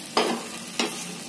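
A wheat-flour uttapam sizzles in an oiled pan as it is flipped, with two sharp bursts of hiss, each fading into a steady frying crackle, close and loud with no voices.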